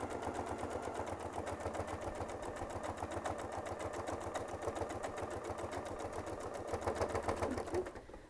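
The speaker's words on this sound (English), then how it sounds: "And now we'll sew back into the center." A sewing machine quilts a quilt toward its center with a fast, steady mechanical stitching rhythm. It runs close and continuous for several seconds, then slows and stops at the end.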